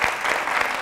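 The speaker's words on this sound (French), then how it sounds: "Vous pouvez vous applaudir" A student audience at a Catholic university session applauds themselves, a brief dense burst of crowd clapping, close and fairly loud, lasting under a second.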